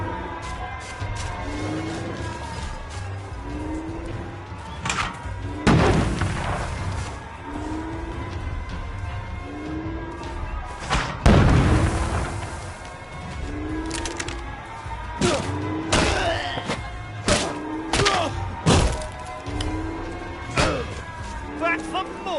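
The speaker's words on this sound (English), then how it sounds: "They're bombing us again!" Wartime bombing in the video game We Happy Few: heavy explosions and crashing impacts burst out at intervals over a constant rumble, with voices shouting and talking between the blasts.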